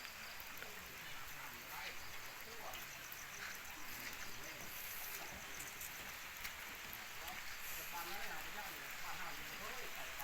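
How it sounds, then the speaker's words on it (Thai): Steady rain patters on a surface in rural Laos, a dense continuous wash of drops close by, with a voice faintly mixed underneath. "ฝนก็ตกดีขนาด"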